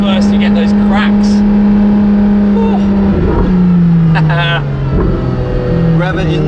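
Ferrari LaFerrari with a straight-pipe exhaust revving after a downshift into first: a loud, steady droning tone that drops in pitch, with sharp crackles and pops, heard close up, and speech present.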